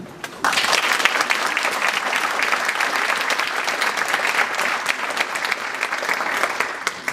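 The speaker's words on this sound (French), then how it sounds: "je vous demande de les applaudir" A lecture audience breaks into full applause after a brief moment of quiet, the dense clapping loud and sustained for around seven seconds with no voices over it.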